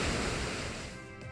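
Rushing water for the Waterfall move in the Pokémon Omega Ruby video game, a dense steady roar of spray that loses its low end toward the end.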